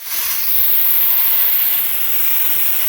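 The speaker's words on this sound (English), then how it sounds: "we now have a steady stream of the steam coming out of some of these holes" Steam vents in a steady, loud hiss from a pressure canner holding potatoes, an unbroken close rush that holds level for about three seconds.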